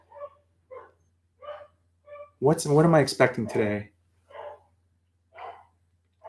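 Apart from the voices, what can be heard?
dog barking excitedly at a package delivery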